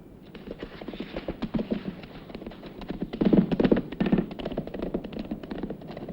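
A horse's hooves clatter in a rapid, uneven run as a rider rides off on a dusty Western trail. The hoofbeats stay close and swell around the middle before settling.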